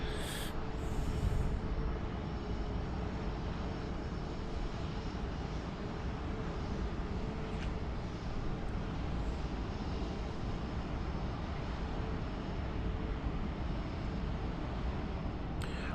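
Airliner engines at Heathrow in Microsoft Flight Simulator 2020, a steady droning jet rumble that holds evenly throughout, with no speech.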